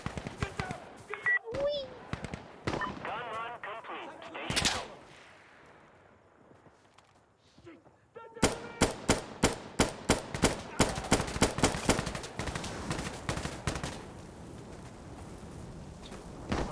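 Minigun fire from a spinning gun on the ground in Insurgency: Sandstorm, heard as bursts of rapid gunfire that fall quiet midway, then return as loud, sharp repeated shots, with players talking over it.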